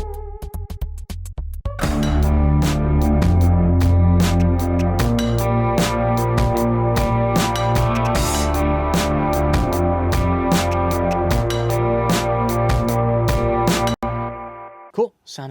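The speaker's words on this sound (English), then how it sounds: "Kind of a straight up Reese sound, nothing crazy." A straight Reese bass synth preset made for a sample pack, a dense, loud, sustained low drone layered under a busy beat with sharp percussive hits, cutting out near the end.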